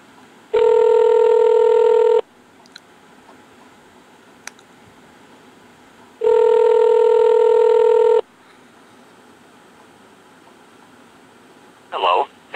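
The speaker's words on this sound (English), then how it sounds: "Should take it a few seconds before it begins ringing." Two long electronic ring bursts from a cabin phone line, each about two seconds with a steady buzzing tone, separated by a few seconds of quiet room hiss, followed by a brief click near the end.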